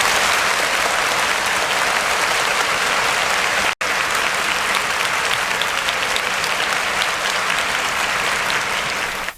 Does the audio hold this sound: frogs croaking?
no